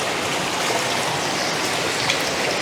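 A small mountain river in North Wales rushes steadily near Glen Ogwen and Tryfan, making a loud, close, continuous broadband wash of flowing water with no pauses and no voices.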